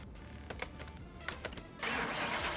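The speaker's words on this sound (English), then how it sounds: "See if it'll let us start it here." A restored Porsche 911 starts in the video game Car Mechanic Simulator 2021. A few clicks and cranking bursts are followed by the engine catching into a steady, louder idle, with no talking.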